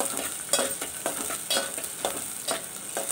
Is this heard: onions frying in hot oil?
yes